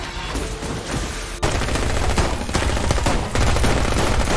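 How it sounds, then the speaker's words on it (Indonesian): Rapid bursts of automatic gunfire crackle continuously and loudly, with heavier volleys kicking in partway through. "Ia pun ditembaki oleh Duquette dan anak buahnya."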